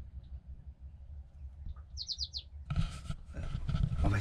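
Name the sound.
small birds chirping in the morning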